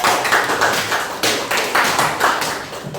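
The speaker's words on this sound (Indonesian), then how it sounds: "Berikan tepuk tangan dong kepada Etis" A class of students claps for a classmate, a short burst of quick, fairly loud applause with rhythmic clustered slaps lasting a few seconds, no talking.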